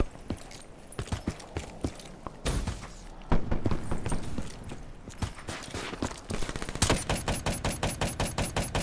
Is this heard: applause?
no